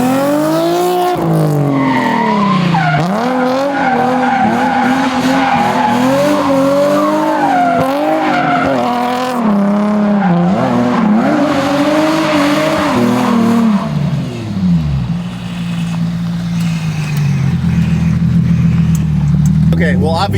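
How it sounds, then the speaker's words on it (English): A car being driven with a manual gearbox spins a donut, tires squealing in long sliding wails over a revving engine, loud and close, then the squeal drops away into lower engine rumble. "obviously that was not Jess doing a donut. That was me."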